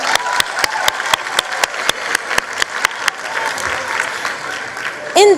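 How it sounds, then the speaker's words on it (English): An audience at a matric results announcement applauds for KwaZulu-Natal with steady, loud, even claps that fill the hall, then a brief amplified voice cuts in near the end. "Another round of applause for KwaZulu Natal."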